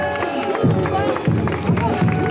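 Applause for a woman winning a prize at a French gathering, scattered clapping and crowd murmur mixed with voices talking over it.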